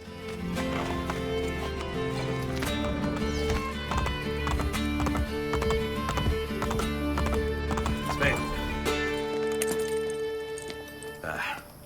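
Horse hooves clip-clop steadily with a whinny from a horse in Assassin's Creed Brotherhood, set against a dense, loud game music score that runs throughout.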